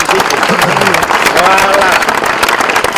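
A crowd at a football academy event applauds loudly with dense, sustained clapping, while a speaker talks over it.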